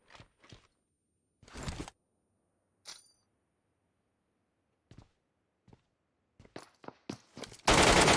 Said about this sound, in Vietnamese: Nó bỏ khẩu MG3 để nó lấy khẩu DBS để nó bắn áp sát